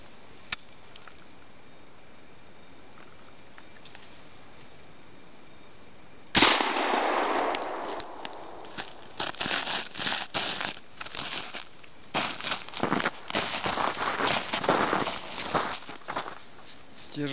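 While hunting hazel grouse, a single sharp shotgun blast cracks out after a quiet stretch, followed by close rustling and footsteps through undergrowth.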